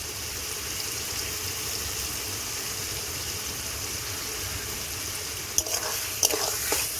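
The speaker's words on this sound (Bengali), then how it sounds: "সবকিছু একসঙ্গে ভালো করে কষিয়ে নেব।" Spices such as ginger, cumin, coriander, dried chilli and poppy seed paste fry with a little water in a pan, making a soft, steady sizzle, with a few clinks of a spoon near the end.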